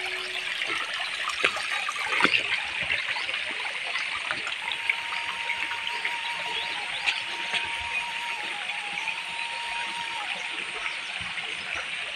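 A river tumbles over slippery rocks in hilly terrain during the rainy season, a constant close-up rushing and splashing that holds steady throughout with no talk.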